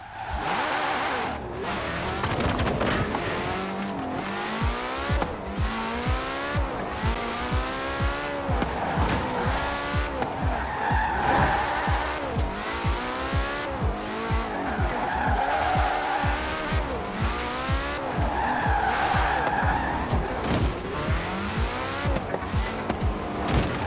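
Forza Horizon 4 car drifting through a street drift race, tires squealing in long repeated skids over a steady roaring engine that rises and falls with each slide, loud and continuous throughout.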